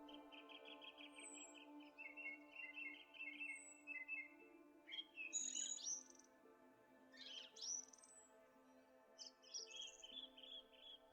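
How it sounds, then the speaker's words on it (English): Several birds chirp and tweet in short, bright bursts in the evening, some near and some farther off, over a steady low hum, with no talking. "You hear the birds? They're saying goodnight to each other."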